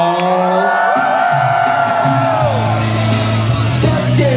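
A concert crowd at a Cantonese party night screams and cheers loudly and without a break, with sustained yelling and whooping voices filling the whole space.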